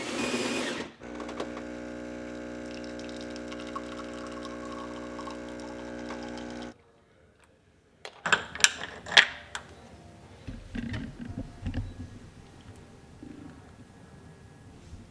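A home espresso machine pumps loudly with a steady droning hum for several seconds, then cuts off, followed by scattered clinks and clatters of cups and handling nearby.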